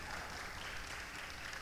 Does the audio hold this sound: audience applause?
yes